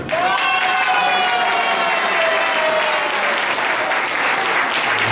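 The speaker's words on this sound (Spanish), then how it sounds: "Eso hay que hacerlo ver y hacerlo sentir con un aplauso así de grande." A large audience at an intercultural gathering breaks into loud, sustained applause, dense clapping with a few cheers and a tonal whistle or voice on top early on, holding strong for several seconds.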